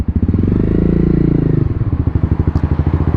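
A Honda CBR 250 motorcycle ridden close by, its engine chugging in a fast, pulsing rhythm that rises briefly and then settles into a steady, loud throb.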